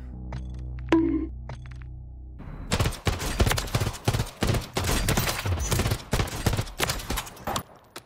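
A burst gun fires on fully automatic in Call of Duty Warzone, with rapid, loud, evenly spaced gunshots following a quieter menu sound.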